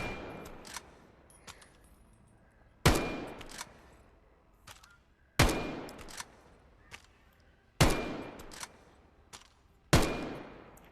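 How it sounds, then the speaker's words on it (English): Four loud, sharp sniper rifle shots from the MR96 in the VR shooter VAIL VR, spaced a few seconds apart, each with a long ringing tail and quieter mechanical clicks between them. "let's try out the MR96, which is the sniper rifle."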